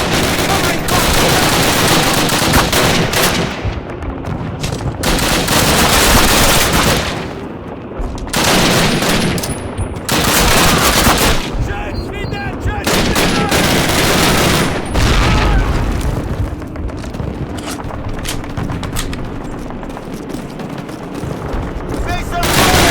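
Loud, sustained covering fire rages in the video game Call of Duty, with rapid machine-gun bursts, rifle shots and booming blasts overlapping almost without pause, while soldiers shout beneath the din.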